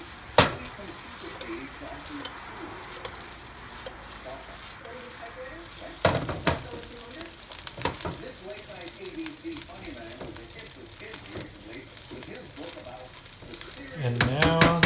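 Golden fried rice tossed and stirred in a pan, with a steady sizzle broken by sharp metallic scrapes and clanks of utensil against pan, while a person talks over it.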